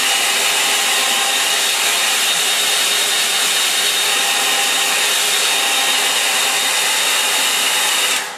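A hair dryer blows hot air over a watercolour painting on smooth Fabriano paper, a steady, loud broadband whoosh running unbroken for about eight seconds before cutting off at the end.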